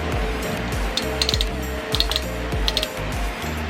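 A hand tool turns an allen bolt and nut tight on an NMAX crash guard with a quick series of ratcheting clicks and small metallic clinks. It sits close and steady over a low background hum.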